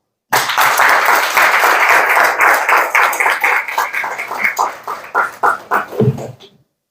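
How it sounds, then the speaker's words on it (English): An audience at a Gavel Club graduation ceremony applauds models arriving on the runway, a loud burst of clapping that starts abruptly, holds steady, then thins into scattered claps and stops. "Let's welcome our models to the runway, ladies and gentlemen, with a warm round of applause."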